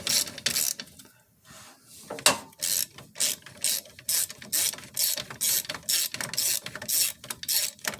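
A ratchet wrench turns a long stud on a Jeep TJ grille. It gives repeated rapid clicking bursts in a steady back-and-forth rhythm, close and clear, with one brief pause early on and no speech.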